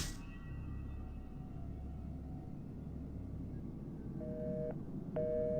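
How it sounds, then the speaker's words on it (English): A steady electronic telephone dial tone in Fahrenheit: Indigo Prophecy holds over low rumbling ambience, with a couple of brief higher beeps near the end. "We can still hear the dial tone."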